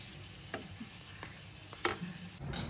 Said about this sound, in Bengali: চলো এবার ভেজে নেব।